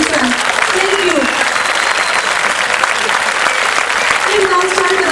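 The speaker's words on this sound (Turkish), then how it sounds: "misafirlerimize bir teşekkür alkışı alabilir miyiz lütfen?" Festival audience applauding dancers at a Basque dance festival in Turkey, steady loud clapping throughout, with a voice speaking over it and brief tonal sounds cutting through.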